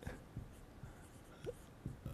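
A ballpoint pen writes on paper in short scratchy strokes and taps, faint and close, with a few separate stroke bursts and no talking.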